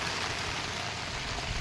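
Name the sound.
heavy rain with big drops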